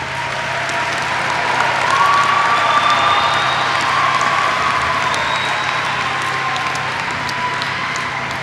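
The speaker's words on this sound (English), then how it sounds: "let's give a round of applause to the teachers" Sustained audience applause for teachers at a high school district live-streamed event, a steady wash of many hands clapping at even loudness throughout, with a few faint cheers mixed in.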